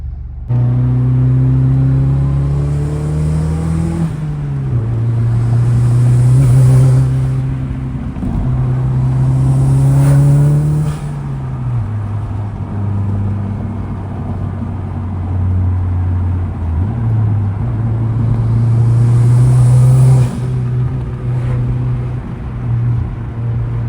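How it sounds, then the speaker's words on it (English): A Honda Civic Si with an aftermarket exhaust drones loudly and close, its tone rising and falling through several revs and gear changes with a throaty, resonant note. "This exhaust, it sounds so good too."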